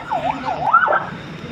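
An ambulance siren at a road accident scene wails in rising and falling sweeps, fairly close, then fades out toward the end.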